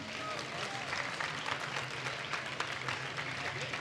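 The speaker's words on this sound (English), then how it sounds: "one big round of applause for the captains." A live audience at a celebrity League of Legends ARAM showdown event applauds steadily in a dense, continuous wash of clapping, with voices mixed in.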